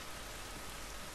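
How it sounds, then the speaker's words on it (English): Steady rain pours outdoors in The Last of Us video game, a dense even hiss of falling water on surfaces, continuous and fairly quiet with no voices. "It's raining"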